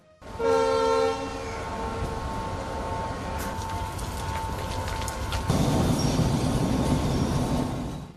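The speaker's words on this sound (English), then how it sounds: "This was the situation at the Dematagoda railway station this morning." A train at Dematagoda railway station in Sri Lanka, a steady rumbling roll with a loud horn-like tone near the start, continuing as a broad noisy wash throughout.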